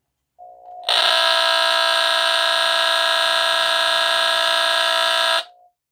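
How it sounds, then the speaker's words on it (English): NuTone-Scovill S-181 line-cord powered smoke detector under test, a brief weak tone followed by a loud, steady, harsh buzzing alarm held for about four and a half seconds, then stopping abruptly. "So that is the NuTone-Scovill S-181 line cord powered smoke detector."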